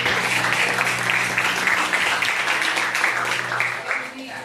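A congregation at an evangelical church service applauds steadily and fairly loudly, a dense wash of clapping held for several seconds over a low sustained tone underneath.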